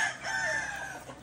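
A backyard chicken on a small farm calls in a short, close, drawn-out clucking cry.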